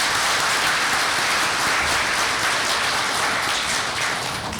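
Audience at an energy forum gives a dense, continuous round of applause, loud and steady throughout with a slight fade at the end.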